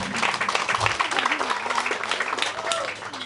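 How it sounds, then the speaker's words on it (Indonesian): Church congregation applauding at an anniversary celebration, a steady wash of clapping from many hands under continuous talk and background voices. "Terima kasih banyak untuk tepukan tangannya"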